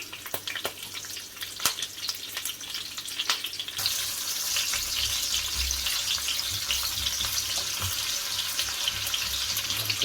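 Half a sliced onion hits hot flavored oil and begins a steady, close sizzle with fine popping crackles. Stirring scrapes come before it, and no one talks.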